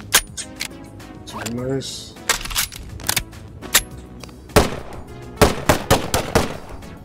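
Sharp gunshots from a Starfield weapon mod in Bonelab, scattered single cracks and then quick successive bursts, with someone talking briefly between shots.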